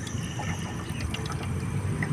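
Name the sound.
water being poured onto a roof sealant patch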